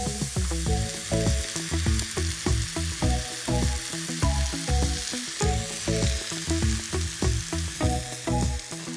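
Steady sizzling of leeks frying in a hot pan, with a constant crackle beneath background music and no voices.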